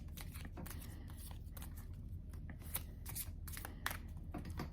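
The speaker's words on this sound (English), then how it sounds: "I'm going to be the one to shuffle up the deck" A deck of playing cards being shuffled, with a steady run of soft riffling and flicking bursts and a couple of sharper snaps, close and fairly quiet with no talking.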